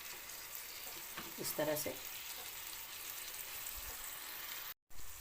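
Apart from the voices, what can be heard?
kebabs frying in a pan, other side cooking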